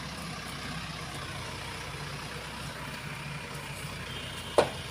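A steady, rumbling tractor engine runs continuously at a constant pitch while spreading fertilizer in a field, with one short knock near the end.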